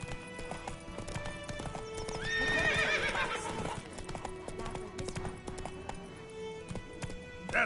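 Roach the horse in The Witcher 3, hooves clip-clopping at a gallop and a clear whinny rising midway, all fairly faint against game ambience.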